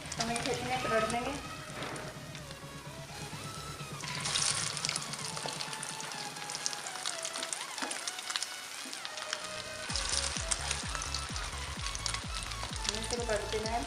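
Beef shami kababs fry in a pan with a steady sizzle and crackle throughout, swelling at moments as they are turned, with a voice speaking over parts of it.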